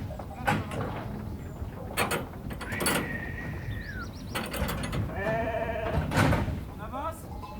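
A crowded flock of ewes on a transhumance drive through the Ariège mountains bleats steadily throughout, with several overlapping calls near and far, mixed with clattering and rattling movement, and people talking over the flock.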